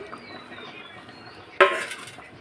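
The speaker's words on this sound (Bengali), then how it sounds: "আমি মাছগুলো দিয়ে দিচ্ছি" Snakehead fish going into a pot of spiced curry with potato and eggplant, a sudden loud splash and clatter after a quiet simmering background, then fading bubbling.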